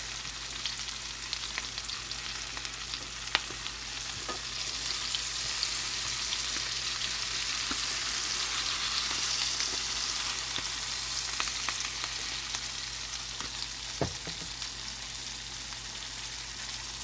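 Fish frying in hot oil gives a steady, close sizzle with a dense crackling hiss and occasional sharper pops, running unbroken with no voices.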